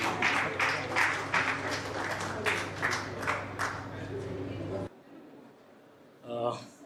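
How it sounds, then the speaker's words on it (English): An audience at a business event claps and cheers loudly for several seconds, then the applause stops abruptly, leaving a brief quiet pause before a faint sound. "let's have a huge round of applause for Mr. Naveen Agarwal."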